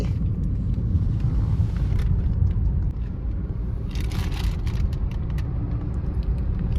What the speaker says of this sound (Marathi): तुम्ही बघू शकता अण्णा ड्रायव्हिंग करतोय